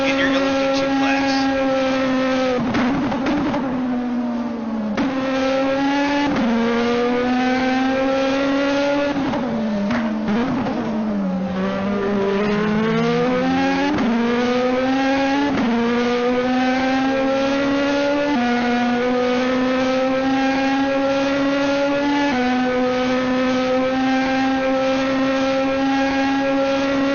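LMP2 prototype race cars in a racing video game battle for the lead at Le Mans, engines screaming through rising and falling gear changes, loud and continuous, with a commentator talking over them.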